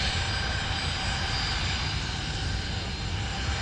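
An airliner departs Cairns Airport, a steady loud jet engine roar with high tonal whine held throughout at close to moderate distance.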